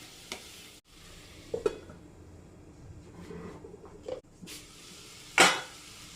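Jackfruit masala being stirred and sautéed in a pan, with a few scattered scrapes and clinks of the spoon against the pan, a soft sizzle between them, and one sharper metallic knock near the end.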